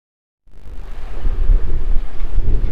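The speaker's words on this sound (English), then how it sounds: "it is super windy today" Strong wind roars and buffets the microphone outdoors on a very windy day, a deep rumbling gust that starts abruptly after brief silence and keeps surging unevenly.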